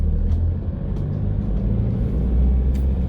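A Grand Starex camper van cruising on the road, its steady low engine and tire rumble droning continuously from inside the cabin with no voices.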